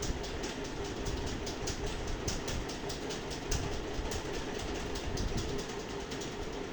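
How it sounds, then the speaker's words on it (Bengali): A train bound for Dhaka rolls past on a railway line near an old zamindar house, a steady loud broadband rumble with repeated clickety-clack wheel beats throughout, close by and with no voices. "রেল লাইন, ট্রেন যাচ্ছে, ঢাকার ট্রেন।"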